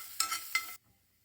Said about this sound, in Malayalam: അതുപോലെ ഒരു 4-5 വെളുത്തുള്ളിയും കൂടി ഒന്ന് ആഡ് ചെയ്ത് കൊടുത്ത് നമുക്കൊരു 15 സെക്കൻഡ് ഒന്ന് വഴറ്റിയെടുക്കാം.